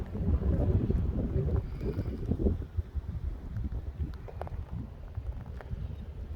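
Wind blows in strong, rumbling gusts across the microphone during an outdoor nature walk on a Sunday morning, loud and continuous with brief lulls.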